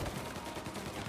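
A gunfire shootout in the video game Mafia: a continuous rattle of rapid shots under a dense, noisy mix, fairly quiet overall and without clear speech.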